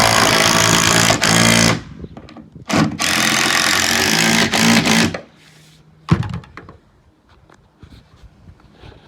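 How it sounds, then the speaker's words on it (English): Power driver sinking 60 mm screws through metal brackets into the side wall of a garden studio under construction, heard as two long loud whirring bursts with a short gap between them, followed by quieter clunks and handling noise. "we're just going to go into the side wall just with some 60 screws"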